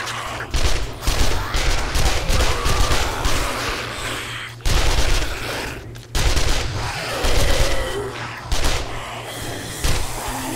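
Sustained automatic gunfire from a zombie video game, loud and close, with rapid bursts broken by brief pauses as shooting restarts.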